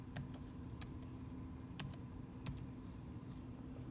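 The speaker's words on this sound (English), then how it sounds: "Okay, so art was first, so I'm gonna type in the code." Fingers type a class code on a computer keyboard in a quiet room, producing soft, scattered keystroke clicks at an uneven pace.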